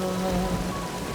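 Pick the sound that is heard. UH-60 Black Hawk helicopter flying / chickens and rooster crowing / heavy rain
heavy rain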